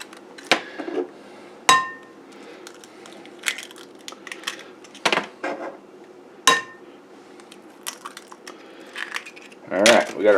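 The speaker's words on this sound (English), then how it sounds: "and then we're going to add 3 eggs. Try not to get any shells in there." Three eggs cracked by hand into about 2.5 pounds of lean ground beef for a meatloaf, giving several sharp, brief cracking clicks with small clinks between them, close and fairly quiet against a soft kitchen background.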